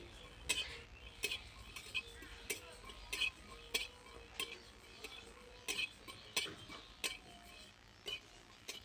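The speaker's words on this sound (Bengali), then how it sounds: "এবার আমি শুকনো কলার মধ্যে জিরে আর ধনে ভেজে নেব" Cumin and coriander seeds dry-roasting in a dry pan, heard as a steady run of light ticking and scraping taps from stirring, close but quiet, with no talking.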